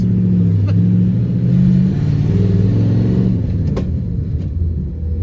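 A Chevy Nova V8 idles and revs with a deep, loud rumble that swells and settles in steady uneven pulses, close up inside the car with no talk.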